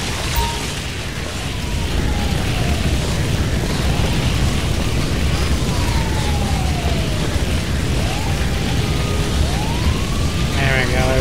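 In GTA V, an ambulance siren wails through Sandy Shores in a continuous loud rising and falling sweep over dense engine and ambient game noise.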